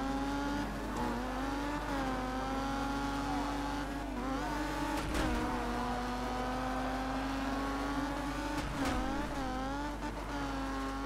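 Rally car engine in Colin McRae Dirt 2 revving and falling as it drives, with pitch dips and brief bursts at braking moments, loud and continuous with no talk.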